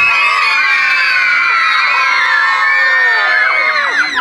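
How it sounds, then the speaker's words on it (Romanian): A crowd of children lets out a long, loud Halloween scream at an indoor comedy-horror event, many high shrieks and shouts overlapping for several seconds before trailing off. "Vreau un strigăt de Halloween"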